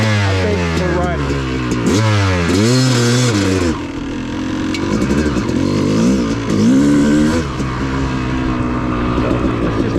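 An off-road motorcycle rides on OHV trails, its engine revving loudly and close with rising and falling pitch as the rider works the throttle, continuous throughout.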